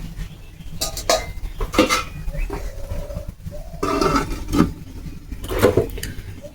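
Lid set down on a cooking pot of taro and fish curry, a few close metallic clanks and rattles among kitchen clatter, moderately loud, with no talking.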